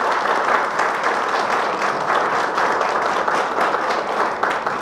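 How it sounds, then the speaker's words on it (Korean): An audience at a Korean policy forum on intellectual property applauds together, producing a dense, steady wash of many hands clapping at a fairly loud, even level. "한번 박수 부탁드립니다"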